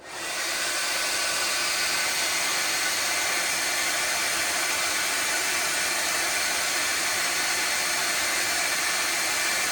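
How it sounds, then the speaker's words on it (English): A hair dryer powered by a 3200W portable power station roars on at full power, a loud steady whooshing hiss that holds unchanged throughout. "so full hair dryer first"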